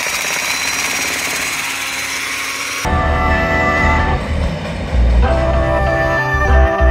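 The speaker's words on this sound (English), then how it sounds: "I always get nervous when I hear them using the drill next door." A power drill runs next door to a design studio, a loud, steady grinding roar that shifts abruptly partway through into a deeper, rougher mechanical drone and keeps going without a break.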